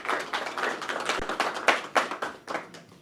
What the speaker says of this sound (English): Can we clap for the team?